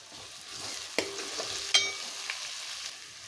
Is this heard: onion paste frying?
yes